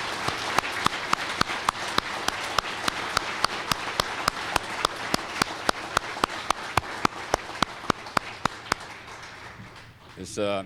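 Sworn and civilian staff receive a final round of applause at a police commendation ceremony: a steady, moderately loud wash of many hands clapping in a room, with sharp regular claps standing out, tapering at the end with a brief rustle.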